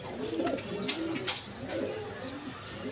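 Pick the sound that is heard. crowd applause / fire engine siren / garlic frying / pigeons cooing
pigeons cooing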